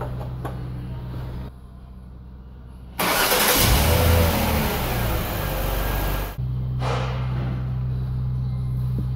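Jaguar X-Type car engine cranking and catching, a sudden loud burst of starter and revving that settles after a few seconds into a steady idle hum, close by with no talk.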